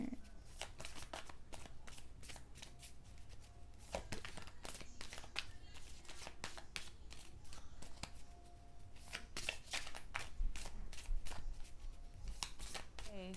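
Moon oracle card deck being shuffled, a quick run of crisp riffling card flicks and soft slaps repeating steadily throughout, close and fairly quiet with a low background hum.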